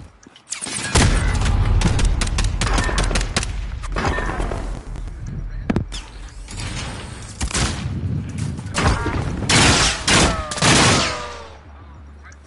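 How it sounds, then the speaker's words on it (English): Rapid pistol shots laid down as suppressive fire in a PS5 shooter, sounding as dense bursts of cracks and booms over several seconds, with voices talking in between. "Look at that suppressive fire with a pistol."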